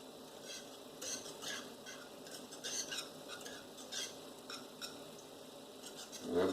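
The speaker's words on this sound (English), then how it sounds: "Just get that all stirred in there really good." Banana pudding mixture being stirred in a bowl with a utensil, a steady soft scraping and sloshing that continues throughout at low volume, growing slightly louder near the end.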